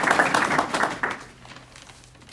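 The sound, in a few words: audience applause welcoming a speaker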